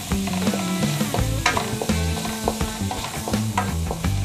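Noodles tossed with their seasoning in a hot pan, stirred steadily so the utensil scrapes and clacks repeatedly over a continuous close sizzle, with no talk.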